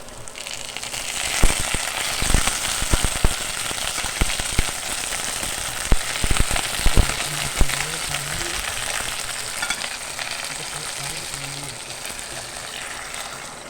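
Fish cooking in coconut milk in a pan, a steady bubbling sizzle close by with scattered pops and clanks of a utensil, while a voice talks over it at times.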